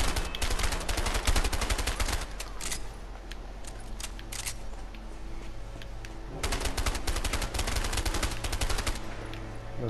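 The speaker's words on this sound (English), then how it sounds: "Wow, this is an extremely inaccurate gun." Rapid, dense bursts of gunfire from an inaccurate gun in the video game A Way Out crackle loudly and close, with a short lull in the middle before the shooting picks up again.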